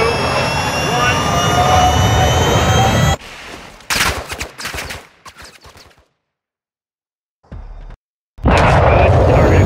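Missile in flight in Modern Warfare II: a loud, dense jet-like roar runs for about three seconds, then cuts to scattered bursts and a quieter stretch before near-silence, ending with another loud roaring burst.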